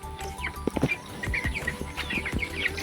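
Farm chickens cluck and chirp softly in short, scattered calls, with a few brief flutters and rustles, all fairly quiet and close by.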